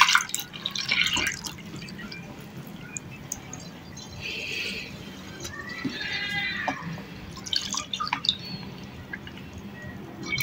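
Home-brewed kombucha tea poured through a strainer into a container, with trickling and dripping liquid, splashes that rise and fall in bursts, and a close, moderate level.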